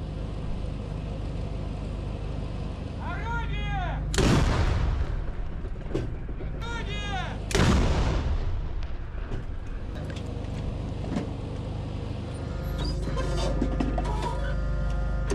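Russian artillery fire: two heavy booming blasts about three seconds apart, each preceded by a short whistling tone, over a steady low rumble with scattered smaller noises and no speech.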